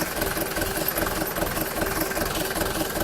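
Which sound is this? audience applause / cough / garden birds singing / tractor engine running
tractor engine running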